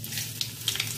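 Dried red chillies and panch phoron spices sizzling in hot mustard oil in a pan, a steady close frying hiss with a few sharper crackles and pops.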